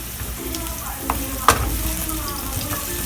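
Onions sizzle and fry in hot olive oil in a pan, a steady close crackle with a few stirring scrapes and clicks across the span.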